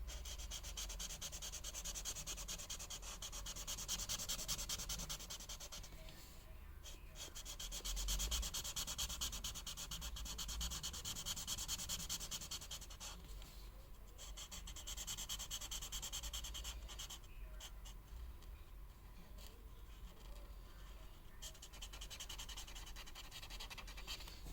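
A chisel-tip marker colors on paper in a soft, continuous rubbing scratch, close and quiet, with long strokes that swell and fade in waves and no speech.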